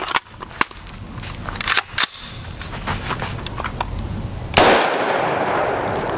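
A 20 inch rifle firing .223 Remington 62gr FMJ Armscor ammunition outdoors, a series of sharp cracks at irregular intervals over a few seconds, followed by a burst of broadband noise near the end.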